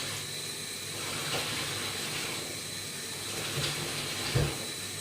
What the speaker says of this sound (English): Cutting board and get rinse off you now.